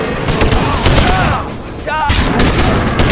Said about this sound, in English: They shoot me through the wall.